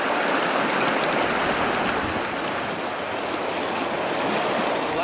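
Steady rushing of Boulder Creek near the Four Peaks area, a constant broadband flow of water with no voices, close and even throughout.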